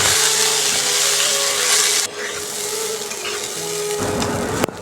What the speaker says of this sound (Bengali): ডাউলগুলো ভালোভাবে ভেজে নেব।